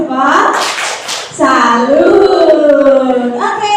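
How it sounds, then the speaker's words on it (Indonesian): A classroom of children claps and chants through a 'tepuk salut' routine, with loud rhythmic hand claps mixed with their voices close by, a short pause, then a second burst of chanting and clapping. "mari kita tepuk salut dulu"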